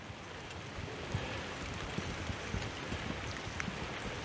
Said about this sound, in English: Just in time for another downpour of rain.